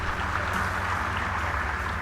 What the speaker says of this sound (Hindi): एक बार अनूप सोनी जी के लिए जोरदार तालियां बजाइए